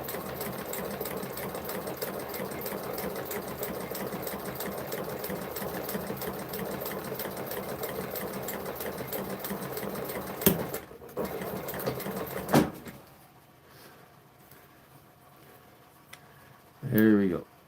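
Sewing machine stitches through leather in a steady, fast mechanical rattle for about twelve seconds, then stops, leaving near silence with a short thump at the end; a voice speaks briefly over the machine.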